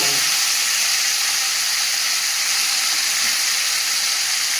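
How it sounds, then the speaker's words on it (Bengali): Green chili, tomato, ginger and garlic fry for a fish curry, giving a loud, steady sizzle and hiss that stays even throughout with no talking. "মাছের ঝালের জন্য এখানে মশলাটা আগে ভেজে নিচ্ছি, কাঁচা লঙ্কা, টমেটো, আদা, রসুন"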